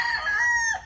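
A yellow-legged three-way cross gamecock gives a short, clear crow close by, a single strained call lasting under a second.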